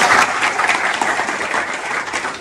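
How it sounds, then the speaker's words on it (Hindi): Students in a computer hardware training class burst into loud, sustained applause, dense clapping filling the room at close range for a couple of seconds with no talking. "जोरदार ताली बजा दीजिए"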